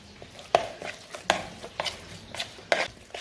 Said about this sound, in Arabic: غادي نخلط هادشي